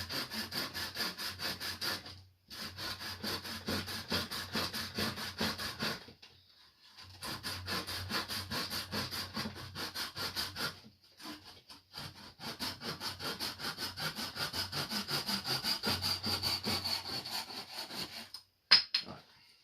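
A hand saw rasps steadily through wood in rapid back-and-forth strokes, pausing briefly a few times before resuming.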